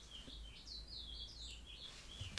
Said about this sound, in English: Gosh, the birds are loud today.